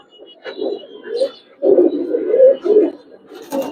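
A pair of old-breed Giribaz pigeons, a male and female in a home loft, coo up close in low throaty rolling phrases repeated several times, with a faint voice nearby.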